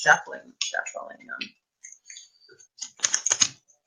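Tarot cards shuffled by hand: a voice first, then a short pause and a dense burst of crisp riffling clicks that fades out.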